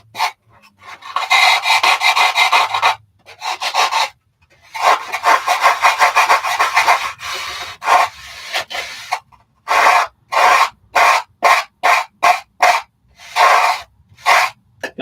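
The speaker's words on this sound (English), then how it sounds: "So just gently sand it in." A model aircraft part being sanded gently by hand near a former, heard as close, rhythmic rasping strokes in long runs and then short separate bursts, with no talking.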